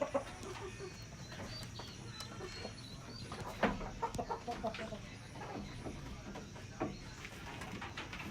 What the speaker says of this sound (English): I know you can hear the background noise from the chicken.